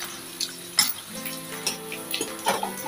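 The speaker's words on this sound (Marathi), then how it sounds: "मी आता बारीक चिरून घेतलेला कांदा टाकून घेतला।" Finely chopped onion and garlic sizzle softly in hot oil in a pan, with light crackles and a few clinks of stirring, fairly quiet and close.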